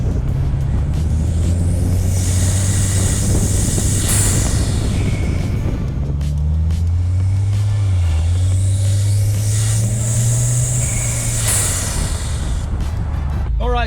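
A second-generation Chevrolet Cruze with a cold air intake driving along, a loud continuous engine drone rising and falling with gear changes and intake whoosh, close and steady, with some speech mixed in.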